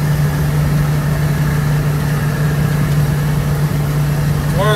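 Dodge V10 pickup truck engine under full throttle while towing 4,000 lbs, a steady droning hum with a strong low tone that holds constant and close throughout, with no talk.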